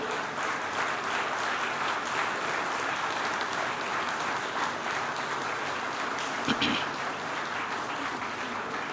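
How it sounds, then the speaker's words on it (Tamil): A large audience at an anniversary celebration applauds award winners with steady, dense clapping that holds at an even level throughout, close and full. "இந்த விருதாளர்கள் அத்தனை பேருக்கும் ஒரு கைத்தட்டு கொடுங்க"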